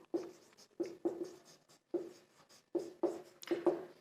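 Handwriting on paper while explaining Rajasthan municipal purchase and contract rules: a close, quiet run of pen or pencil strokes in short bursts with brief pauses, no talk.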